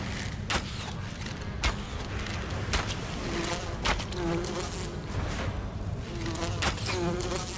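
Buzzing from swarming bee-like enemies in the video game Enshrouded, a dense insect drone with whining tones rising and falling over steady game noise for several seconds.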